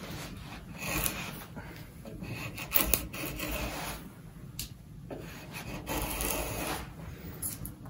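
A freshly sharpened wood chisel paring and scraping through wood, giving repeated rasping, rubbing strokes close by for several seconds, with no talking.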